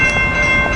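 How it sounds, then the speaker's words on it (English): Northbound Coaster commuter train passing in San Diego, a loud, steady rumble with a sustained horn-like tone throughout a brief moment, nearby and without talk. "there's a northbound coaster right over there"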